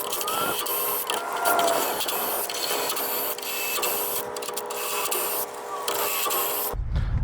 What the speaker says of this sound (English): I'm gonna chase all these threads.